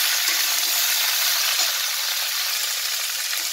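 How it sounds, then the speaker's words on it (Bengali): Vegetables for a vegetarian panchratna dish sizzle steadily in a hot pan with oil, a constant bright hiss filling the space with no talking. "আমি সবজিগুলোকে এটা চাপা দিয়ে এটা ভেজে নেব"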